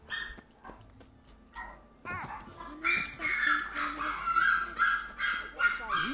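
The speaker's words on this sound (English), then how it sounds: "the dogs are going crazy" Dogs bark and yip excitedly in the video game The Witcher 3: Wild Hunt, with sparse calls at first, then dense overlapping barking close by. Whimpers and game sounds mix in.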